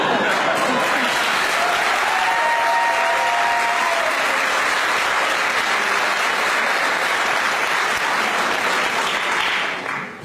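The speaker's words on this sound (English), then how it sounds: "I sincerely thank you for clapping." Graduation audience at a ceremony for computer science PhD graduates applauds warmly, a dense, steady wash of many hands clapping at full volume for about ten seconds before it starts to thin out at the very end.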